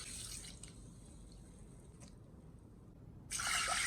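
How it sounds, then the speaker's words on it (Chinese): Mung beans rinsed in a container of water, with soft drips and trickles over a quiet hiss, and a sudden splash of pouring water near the end. "我们准备300克的绿豆，给它倒在容器里，然后再加上适量的清水， 把绿豆表面的灰尘给它清洗一下"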